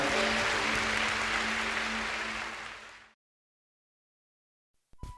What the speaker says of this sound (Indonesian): Berikan tepuk tangan buat Tuhan kita yang baik.